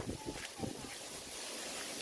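Strong wind gusting through a banana garden, a rushing, buffeting roar full of microphone wind noise, loud and continuous with a few louder gusts near the start.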